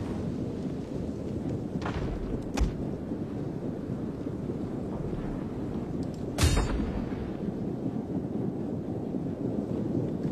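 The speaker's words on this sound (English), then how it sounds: "It's enabled us to get some good shots here with these artillery." Artillery fires in a strategy video game, two or three booming blasts over a steady rushing wind-like background, moderately loud, with no talk.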